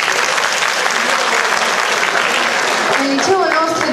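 Loud, close crowd applause at a high school freshman ball after a German dance team performance, dense continuous clapping with some voices and faint music emerging toward the end.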